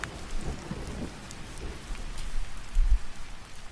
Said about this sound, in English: Rain assaults the ground